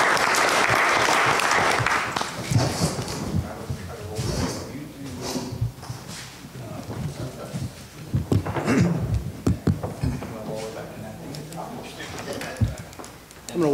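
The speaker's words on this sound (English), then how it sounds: "Can we give a round of applause to Mr." A brief burst of applause at a city council meeting opens, then gives way to people talking, shuffling and moving chairs in the room.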